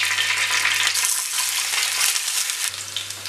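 A handful of raisins fry in ghee, a close bright bubbling sizzle with light stirring scrapes, continuous over a faint low hum.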